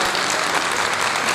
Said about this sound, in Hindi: ज़रा तालियां बजा के बताएंगे